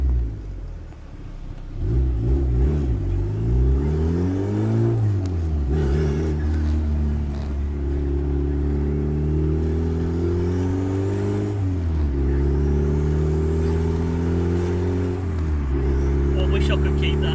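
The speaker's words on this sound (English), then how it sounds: "Civic turbo's running." A Honda Civic turbo with a full custom exhaust revs repeatedly, its loud close engine note rising and falling in several sweeps between steadier stretches of idle rumble.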